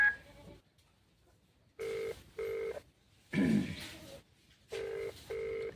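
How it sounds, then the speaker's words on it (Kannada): An outgoing phone call ringing unanswered: a ringback tone heard as paired double bursts separated by quiet gaps, moderately loud and close, with a brief faint murmur between rings. "ring ಆಗತ್ತಿದ್ದು but call receive ಮಾಡೋಕತ್ತಿಲ್ಲ"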